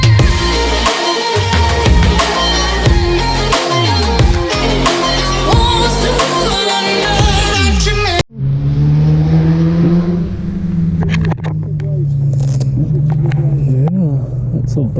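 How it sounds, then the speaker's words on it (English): A Ducati Monster S2R 1000 naked motorcycle revs and accelerates on a road ride, the engine droning loud and steady with rising pitch sweeps, then settling into a lower rumble after a sudden break. "we're taking the Ducati S2R 1000 Super Naked out for a ride in May 2024."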